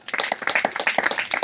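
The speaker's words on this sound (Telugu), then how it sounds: "చప్పట్లు కొట్టండి." An audience claps in a quick, uneven burst, many hands striking together close and fairly loud for a moment, with no speech over it.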